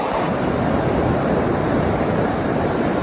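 Big ocean waves surge and break continuously at Telisai beach in Brunei, a loud, steady roar of surf with wind buffeting the microphone throughout and no talking.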